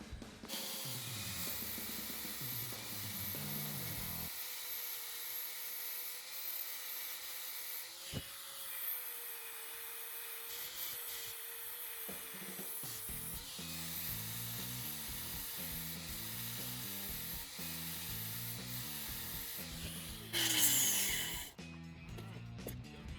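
An old sickle mower blade being sharpened by hand, with repeated rhythmic scraping strokes of an abrasive across the steel, pauses between passes and a brief louder burst near the end, no voices.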